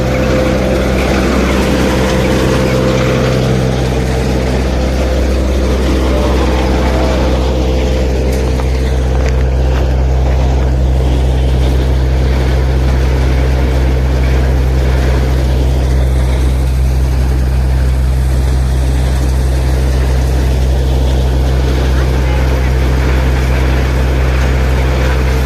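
A tractor-driven threshing machine runs steadily close by, its loud, continuous low drone and mechanical hum holding even throughout with no speech over it.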